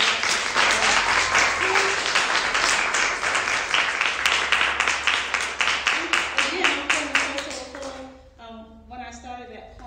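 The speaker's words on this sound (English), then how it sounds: "Can we clap again for them?" An audience at a poetry month reception in a museum claps for featured poets, a lively round that thins into rhythmic separate claps before fading, then a voice speaks.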